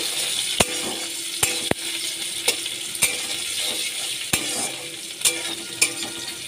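Sliced onion frying in hot oil with whole cumin, nigella seeds, two bay leaves and cinnamon, making a steady close sizzle broken by sharp, irregular spoon clacks against the pan.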